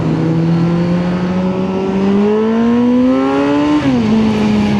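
A motorbike accelerates in commuter traffic. Its engine note climbs steadily and loudly for several seconds, then drops briefly near the end before settling. No one speaks.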